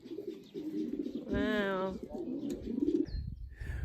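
Pigeons cooing outdoors in a village on the lava coast of Pico Island in the Azores, a soft burst of calls near the middle, with a person speaking briefly around it.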